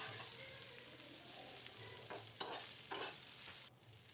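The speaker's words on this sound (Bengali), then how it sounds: "আগে চাউমিনটাকে একটু ভাজা করে নিতে হবে" Egg vegetable chowmein noodles fry in a pan as a faint steady sizzle with a few brief stirring scrapes near the end. The sound is quiet and close, and no one speaks.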